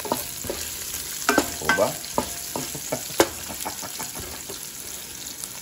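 Native chicken with liver and heart sautéing with spices in a pan for sinampalukan: soft steady sizzle with scattered scraping stirs, alone at close range.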